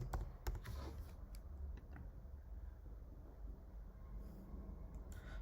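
A Gmail password is typed on a computer keyboard, with a few faint key clicks mostly near the start, set against a soft low rumble of background noise.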